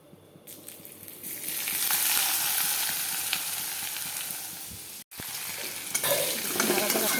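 Chopped onion hits hot oil with salt, turmeric, chopped tomato and spices in a pan, setting off a loud continuous sizzle of frying with stirring scrapes, a brief break, then sizzling again, close up and without talk.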